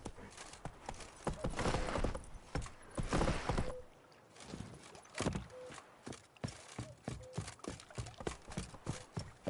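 Horse hooves in The Witcher 3 clip-clop at a brisk walking pace, close and fairly clear, over a rushing breezy outdoor background with a brief gap in the hoofbeats before they resume.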